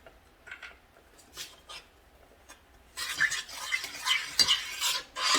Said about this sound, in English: Stir that in there. Get it all incorporated.